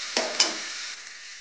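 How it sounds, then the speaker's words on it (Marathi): Water splashed into sizzling moth bean dal in a pan, two quick bursts of hiss that settle into a softer fading sizzle. "मटकीची डाळ थोडं शिजायला वेळ लागतो आणि थोडंसं पाणी टाकूया"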